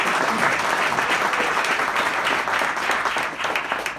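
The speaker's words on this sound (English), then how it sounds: "How about a round of applause for Paul Graziano for putting this together today?" A crowd at an outdoor community press conference gives a steady, sustained round of applause, a dense wash of clapping hands that carries through without any speech.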